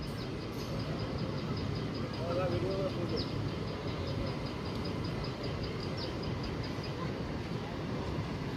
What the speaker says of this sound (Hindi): एक्सप्रेस ट्रेन नৈহাটি रेलवे जंक्शन की तरफ जा रहा है।